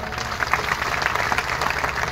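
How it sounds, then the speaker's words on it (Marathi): An audience applauds loudly after being invited to clap for the organisers of a religious discourse gathering, producing dense, sustained clapping throughout with no speech over it. "त्यांच्याकरता एकदा जोरदार टाळ्या वाजवा"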